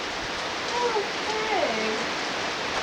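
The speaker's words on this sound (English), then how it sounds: "a whole bunch of waterfalls Yeah. formed by that rain shower." Steady broadband rush of waterfalls formed by a rain shower on Mount Katahdin in Maine, a continuous wash of falling water up close, with faint voices briefly rising above it.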